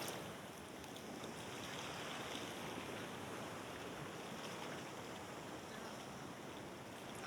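Steady rushing surf and wind at night on a rock jetty at Teluk Kemang, Port Dickson, a constant roar of strong sea waves with no pauses, moderately loud and close.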